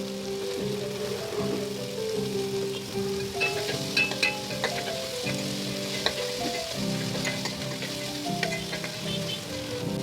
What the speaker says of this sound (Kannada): ಕ್ಯಾಪ್ಸಿಕಮ್ನ ಸಣ್ಣ ಸಣ್ಣ ಕಟ್ ಮಾಡಿ ಇಟ್ಕೊಂಡಿದ್ದೀನಿ, ಹಾಕೋತಾ ಇದ್ದೀನಿ